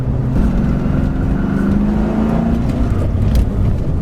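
A 1997 Ford Mustang Cobra V8 engine accelerates hard, its loud, close exhaust roar climbing in pitch as it revs toward the top end.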